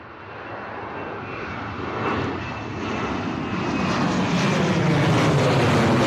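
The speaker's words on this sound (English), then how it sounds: "Boeing 737 Ryanair coming at us with the slow derated takeoff there" Ryanair Boeing 737 jet on a slow derated takeoff from Bristol Airport, heard from nearby as a steady broadband engine roar that swells gradually louder and closer over several seconds, with no talking.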